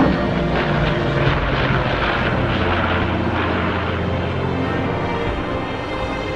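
Grumman Bearcat propeller fighter plane flying, a loud continuous engine drone with steady rumble and a broad roar that holds evenly and eases slightly toward the end, with no voices.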